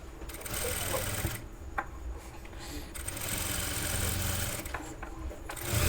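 Sewing machine stitching a blouse panel, a fast whirring chatter in several close bursts broken by brief pauses, moderately quiet, with no voices.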